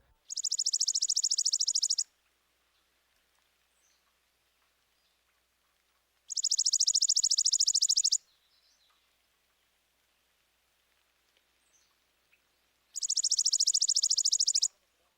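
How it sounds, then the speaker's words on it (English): Chipping sparrow singing its dry, mechanical trill, three evenly spaced, high, rapid bursts of about two seconds each, clear and close against a quiet background with no voices. "the mechanical dry trill of the chipping sparrow"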